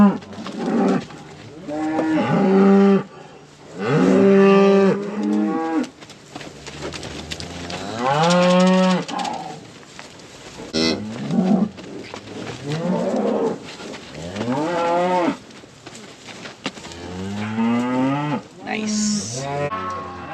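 Cattle in a pen moo repeatedly, loud and close, long drawn-out calls overlapping from several animals with short pauses between, some lowing rising and falling in pitch.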